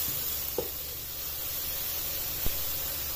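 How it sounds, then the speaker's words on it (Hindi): Chopped onions fry in a pan with a steady, even sizzle and hiss, joined by a couple of faint clicks, close and continuous without any talking. "प्याज को इसमें सिर्फ 2 से 3 मिनट तक ही कुक करना है"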